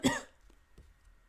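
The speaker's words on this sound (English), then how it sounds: "Did I just cough straight into the microphone?" One sharp cough right up against the microphone, loud and close, followed by a couple of faint clicks and quiet room noise.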